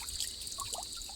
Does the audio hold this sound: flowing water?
yes